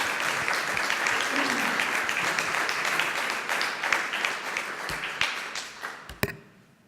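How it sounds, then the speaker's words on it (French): An audience at a business aperitif event applauds a speaker introducing a conference, a sustained round of clapping that thins into scattered individual claps and a final sharp clap before fading out. "je vous demande un bel applaudissement pour Sébastien Koenig"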